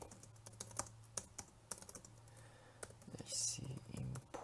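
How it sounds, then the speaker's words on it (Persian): Rapid keystrokes on a computer keyboard, irregular clusters of sharp clicks with brief pauses, with a faint voice murmuring briefly near the end. "اگه بتونم تایپ کنم"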